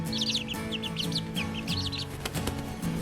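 Five young backyard chicks chirp in short, high bursts nearby, with the soft flutter of small wings between their repeated calls and no voices.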